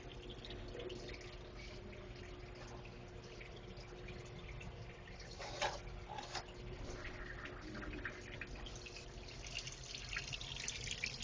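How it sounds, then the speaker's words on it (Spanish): Water drains from a laboratory thermal bath through a hose, giving a faint continuous trickle and splash with a few louder gurgling bursts partway through, with no voices. "Introducir la manguera en el baño térmico y abrir la llave. Y comenzar el proceso de drenado de agua del baño térmico."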